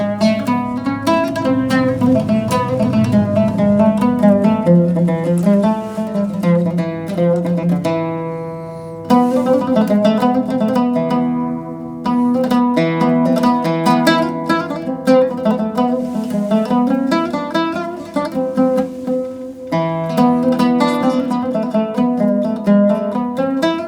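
Electro-acoustic oud, played acoustically with the pickup off, plucks a steady melodic line with rich ringing harmonics, two brief pauses breaking the phrases; close and fairly loud, no voices.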